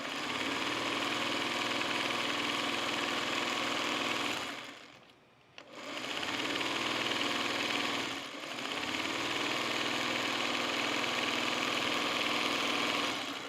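A sewing machine runs at full speed, sewing jelly-roll fabric strips into 16-patch quilt blocks. It gives a loud, steady, continuous mechanical whir, cuts out briefly around 5 seconds, then carries on at full pace to the end.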